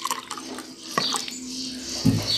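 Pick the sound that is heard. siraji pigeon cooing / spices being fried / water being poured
water being poured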